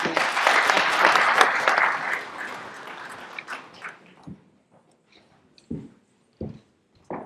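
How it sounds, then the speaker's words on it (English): Audience applause for Oxford's Lord Mayor, Councillor Louise Upton, at a gathering of world leaders: a loud burst of clapping that thins and fades within a few seconds, leaving a few scattered last claps. "So a round of applause for Councillor Louise."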